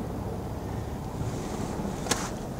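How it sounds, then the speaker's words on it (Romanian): Blustery storm wind at a dam reservoir roars steadily across the microphone, a continuous rumbling gust with a brief sharp knock near the end. "Asta care se aude e vijelia."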